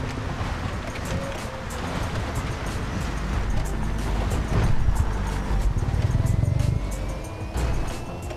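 A car driving in GTA V on a FiveM server, a steady, loud engine and road rumble running throughout with a rushing, wave-like wash and no talking.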